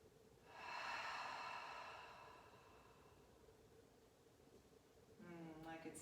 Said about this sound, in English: One more time, big inhale.